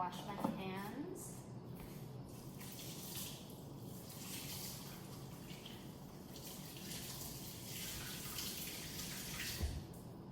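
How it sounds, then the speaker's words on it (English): Hands being washed under a running tap at a kitchen sink while making fondant decorations, a steady broadband water rush lasting throughout, with a person talking over it at the start. "just gonna wash my hands."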